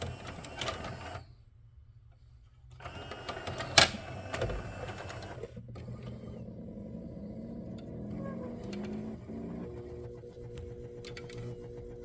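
Small motor in a CED disc player fitted with prototype 3D-printed parts, a close mechanical whir and buzz with clicks and a sharp knock, running steadily while a screwdriver is wedged into the mechanism.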